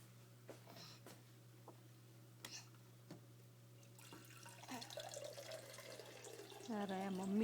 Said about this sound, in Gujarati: મમ્મી એ પાણી ભરી રહ્યા છે